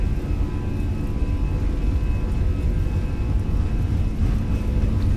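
An Airbus A320's jet engines on the takeoff roll in a flight simulator make a loud, steady roar with a constant whine that holds without a break the whole way through.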